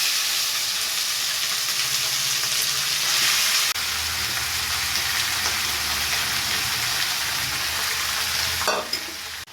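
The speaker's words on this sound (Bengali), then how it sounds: "তেল গরম হয়ে গেছে, এখন আমি মটনটা দিয়ে দেবো।" Mutton frying in hot oil in a home kitchen, a loud continuous sizzle with stirring, dense and steady throughout and cutting out near the end.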